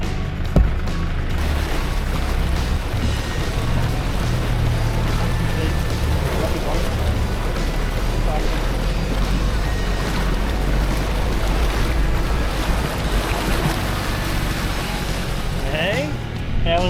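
An off-road vehicle rumbles through a water crossing in Litchfield National Park with sloshing and splashing under a low engine drone and wind buffeting, with muffled voices near the end.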